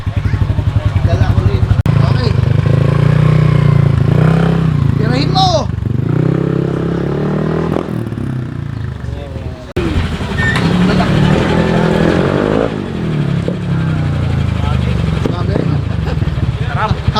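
Yamaha NMAX 180cc scooter-style motorcycle on a test ride with tuned fork suspension, engine droning steadily and rising as the throttle is twisted, loud and close throughout, with people talking over it.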